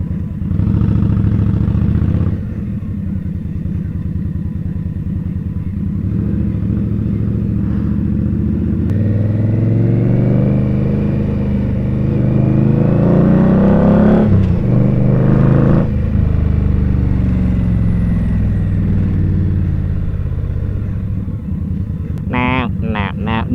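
A motorcycle rides through weekday traffic in New York City, its engine a loud, continuous rumble that rises in pitch as it accelerates in the middle, with surrounding traffic noise and a sharp high tone at the very end.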